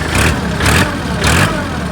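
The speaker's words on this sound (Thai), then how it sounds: "เดี๋ยวให้ฟังเสียงหน่อยครับผม เสียงเครื่องนิ่มๆเลย" A 2013 Kubota L3608 tractor in very clean condition runs its engine smoothly, a loud, steady diesel drone that swells gently in three slow surges, close and alone.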